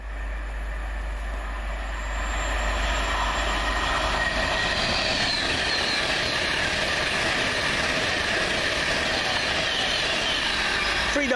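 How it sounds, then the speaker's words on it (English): A Pendolino passenger train on the Birmingham New Street to London Euston run passes at Lea Hall. Its loud, continuous rumble and rail noise build after a couple of seconds and hold steady, with faint wheel squeal over the top. "Pendolino from Birmingham New Street to London Euston."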